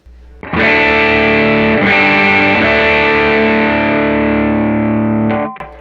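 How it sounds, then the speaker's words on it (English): Distorted electric guitar chord through an overdrive pedal and graphic EQ rings out loud and sustained, struck again partway through, with a thick overdriven tone and no talking. "Here's the Dude. Now we'll add the EQ."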